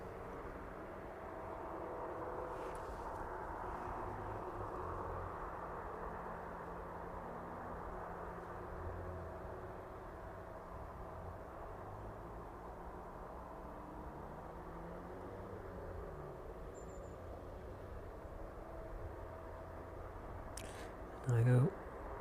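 An aircraft departing East Midlands Airport in the evening gives a steady, distant engine rumble that holds throughout. Faint sounds sit underneath it, and a short louder bump comes near the end.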